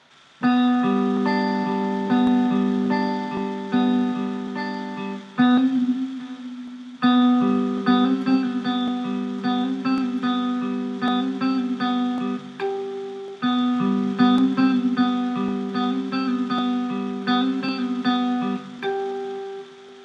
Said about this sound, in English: the song kicks off with a clean tone with a little bit of delay on it